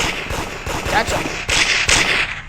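Rapid bursts of video game gunfire ring out loud and close in a scary grocery-store horror game, overlapping one another with voices talking over the shooting.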